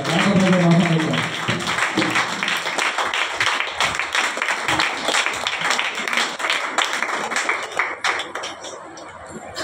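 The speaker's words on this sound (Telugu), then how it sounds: "అందరూ చప్పట్లు కొడుతూ దైవజనులను ప్రేమపూర్వకంగా ఆహ్వానిద్దాం" A church congregation at a Sunday worship service claps to welcome the pastor, a sustained, fairly loud wash of many hands that gradually thins toward the end.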